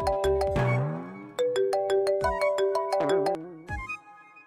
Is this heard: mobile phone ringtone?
yes